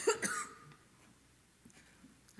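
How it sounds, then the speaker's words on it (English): A couple of quick coughs at the start, fairly close, in a museum gallery, followed by quiet breathing and faint room sound. "I'm going to cough, and then I'm going to be fine."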